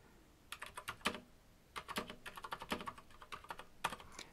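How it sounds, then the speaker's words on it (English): Close computer keyboard typing into a rich text editor, two bursts of quick, light key clicks separated by a short pause, with no voice over them. "Now I've got a rich text editor, and I can type things about Rebecca."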